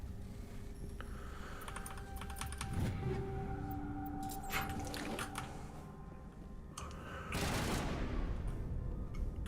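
Rapid gunfire bursts from the video game Mass Effect crackle in two clusters over a steady bed of game music and droning tones.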